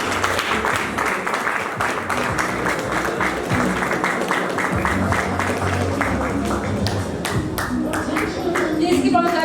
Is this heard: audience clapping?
yes